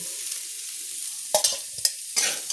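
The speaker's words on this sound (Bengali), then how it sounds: "আমার ফুলকপি ভাজা ভাজা হয়ে গেছে এবার আমি এটাকে নাবিয়ে নিচ্ছি" Fried cauliflower is lifted out of a pan of hot oil over a steady sizzle, with a few sharp metal spatula scrapes and clatters close by.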